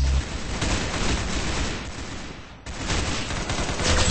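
Dense, continuous automatic gunfire from the video game Arsenal, loud and close, a sustained crackling barrage that dips briefly around the middle before resuming at full intensity.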